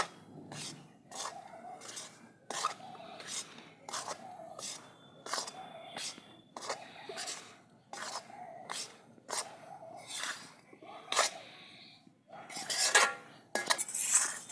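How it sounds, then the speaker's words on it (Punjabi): Flaxseed stirred in a kadhai for Punjabi alsi pinni, a spoon scraping and clanking against the metal in a steady repeated rhythm, each stroke ending in a sharp clink, close and fairly loud. "ਨਾਲ ਹੀ ਹੁਣ ਆਪਾਂ ਅਲਸੀ ਪਾ ਦਾਂਗੇ ਆਪਾਂ ਇਹਨੂੰ ਚੰਗੀ ਤਰ੍ਹਾਂ ਮਿਲਾ ਲਾਂਗੇ"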